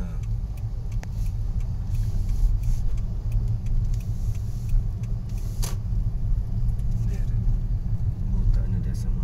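City street traffic in passing, heard as a continuous low rumble of car and bus engines with occasional brief clatters and higher noises, while people talk over the steady din.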